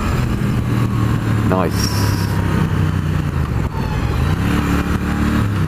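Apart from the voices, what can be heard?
Triumph Thruxton R motorcycle engine revving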